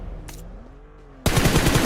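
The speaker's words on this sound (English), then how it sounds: "Crazy gunfire." Video game gunfire in PUBG Mobile during a pro esports playoff match, a sudden burst of rapid shots that starts abruptly after a quiet, tonal stretch and continues loudly to the end.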